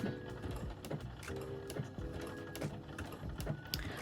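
A sewing machine stitches swimwear elastic in short, quick bursts of mechanical clatter, close and fairly quiet, with brief pauses and slight speed changes between runs.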